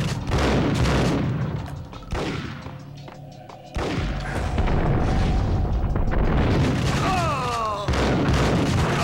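Dense, loud gunfire in the Max Payne video game crackles in continuous bursts and heavy booms, with a brief dip before the shooting surges again.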